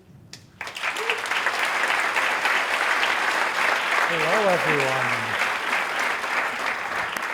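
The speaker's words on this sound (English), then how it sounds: "let's keep the applause going" Sustained applause from a large conference audience fills the room, with a voice briefly greeting the crowd over the clapping.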